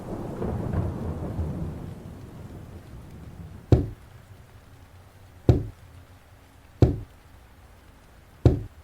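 Four sharp, widely spaced knocks on a balcony door at night, each a loud isolated thud over a low rumbling background, with no voices.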